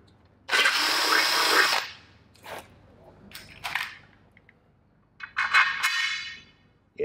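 A power drill opens outboard hydrofoil bolt holes to 6.5 mm, with a loud sustained whine of about one and a half seconds, then short bursts, small clanks, and a final longer drilling run, close up.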